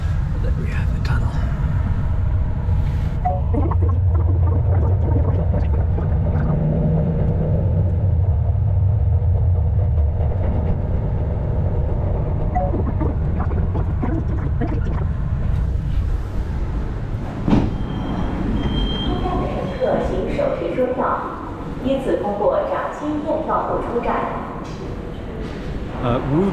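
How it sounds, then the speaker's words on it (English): A Shanghai Metro driverless train runs through a tunnel, heard from the rear car: a loud, steady low rumble of wheels and motors that continues throughout, with some screeching metallic squeal rising near the end as the train rounds a curve. "this is a driverless train"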